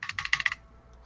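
Keys struck on a computer keyboard at a vintage Mac Plus setup: a quick burst of about five or six close clicks in half a second, then quiet room hiss.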